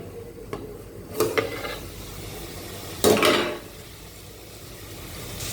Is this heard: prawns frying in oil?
yes